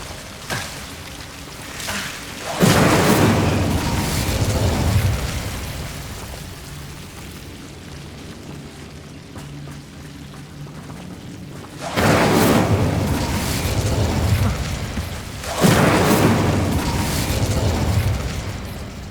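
Incendio fire spells burst in Hogwarts Legacy, with three loud, roaring blasts that each swell and linger for several seconds over a crackling, rain-like background hiss.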